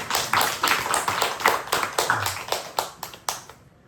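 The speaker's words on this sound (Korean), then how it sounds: "하나님께 박수로 영광을 돌리겠습니다" Church congregation clapping together during a Korean worship service, a rhythmic run of about a dozen loud, evenly spaced claps in unison that stops abruptly.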